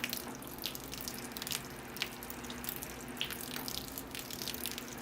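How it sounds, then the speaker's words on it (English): Water dribbles from a small watering can into a bonsai pot of freshly repotted elm or spruce, a steady close wet trickle with scattered drips and splashes running throughout. "I've kind of got water going everywhere but in the pot."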